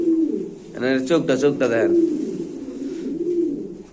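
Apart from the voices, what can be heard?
pigeons cooing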